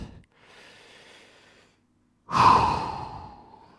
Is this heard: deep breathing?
yes